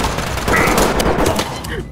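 Rapid full-auto gunfire in the tactical shooter Ready Or Not, a dense, loud burst of rattling shots over the full two seconds, with a voice shouting over it.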